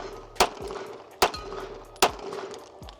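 Three sharp gunshots from a Glock 17 pistol fired at a target on a range, evenly spaced about 0.8 seconds apart, each a loud close crack with a short decaying tail.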